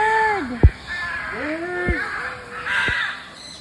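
A crow at Manila Zoo caws in about three harsh, drawn-out calls spaced across a few seconds. The calls are fairly close and loud over a steady background hum.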